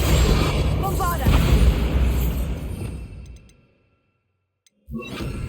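A Bombarda blasting spell in the video game Hogwarts Legacy bursts in a heavy, booming explosion that roars for about three seconds and decays into near silence, then a fresh burst erupts.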